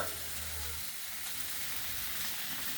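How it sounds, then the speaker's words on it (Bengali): Potatoes and soybeans sizzle gently in a little oil, a steady soft hiss of frying with no talk over it. "হালকা তেলে আস্তে আস্তে নেড়ে আলু আর সয়াবিনটা যখন হালকা একটু ভাজা হয়ে যাবে"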